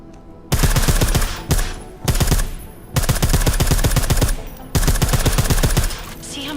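Rapid bursts of suppressed gunfire from Deus Ex: Mankind Divided, loud and close, firing in several sustained volleys separated by brief pauses, with no talking.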